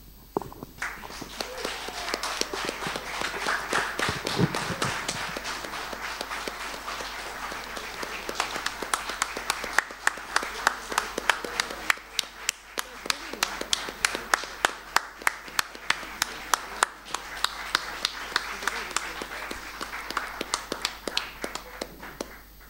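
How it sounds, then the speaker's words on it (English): An audience at a conference in Dominica applauds for over twenty seconds, a dense, sustained patter of many hands clapping that swells and eases, with sharper individual claps standing out near the end. "can we have another round of applause?"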